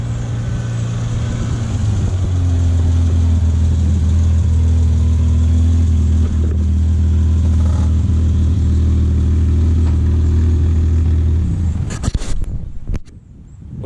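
A BMW E30 engine running close by with a loud, steady low drone that shifts pitch partway through, then cuts off near the end amid a few sharp clicks and bumps.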